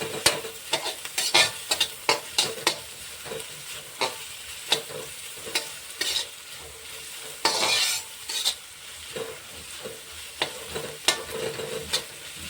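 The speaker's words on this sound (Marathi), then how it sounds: "कांदा जो आपल्याला आहे पहिले याला चांगलं परतून घ्यायचा आहे त्याच्यातलं चांगलं कच्चं पण निघून गेलं पाहिजे" Chopped onions sauté and sizzle in a hot pan for egg bhurji, with a steady frying hiss broken by repeated scraping stirs of a spatula, close up and with no voices.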